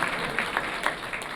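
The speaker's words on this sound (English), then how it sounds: "If you don't clap, clap all together." An audience clapping together at an awards night makes a short, fairly faint spatter of applause, with a handful of separate claps rising out of a soft crowd wash.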